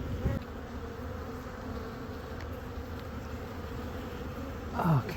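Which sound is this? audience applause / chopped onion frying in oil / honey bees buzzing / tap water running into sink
honey bees buzzing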